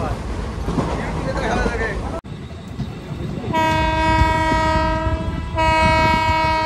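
Rumbling train noise with people talking at first inside the carriage, then a loud sustained train horn blaring twice over the rolling clatter.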